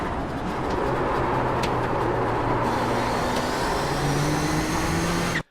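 A Nissan GTP ZX-T prototype race car in iRacing at Phillip Island howls at full throttle, a continuous loud engine drone with rising and shifting harmonic tones, cutting off abruptly at the end.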